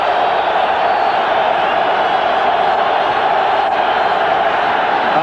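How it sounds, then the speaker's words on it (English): A packed football stadium crowd at a 1995 Raiders–Chargers game roars in a steady, dense wall of noise that holds loud and unbroken throughout, with no clear voices standing out. "And the crowd wakes up again."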